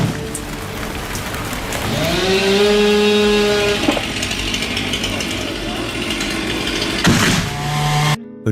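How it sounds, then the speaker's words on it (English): A Husqvarna 3120 XP chainsaw cuts into a massive tree during felling in the forest, its engine whining loudly and steadily, rising in pitch, then dipping and revving again before cutting off abruptly. "the Husqvarna 3120 XP, a chainsaw built for the giants of the forest"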